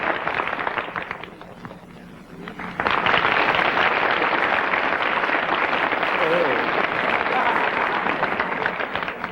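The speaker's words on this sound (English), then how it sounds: "Applause for Tony." A television variety-show studio audience breaks into applause for Tony, a performing dog; quiet murmuring at first, then loud, steady clapping swells in and holds to the end.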